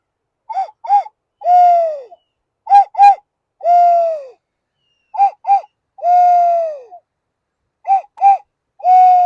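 Doves coo and other birds call outdoors after rain during a Eurasian collared dove hunt, loud, close repeated two-note phrases alternating with longer drawn-out coos in a steady rhythm, with no talking.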